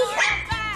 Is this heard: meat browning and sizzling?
no